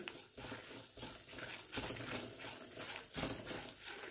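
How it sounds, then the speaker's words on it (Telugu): Urad dal, asafoetida and fenugreek seeds frying in a pan give a steady, fairly loud crackling sizzle with a few sharper pops, and no voices are heard. "కొంచెం మినపప్పు ఎర్రగా అయ్యే వరకు వేయించుకోవాలండి"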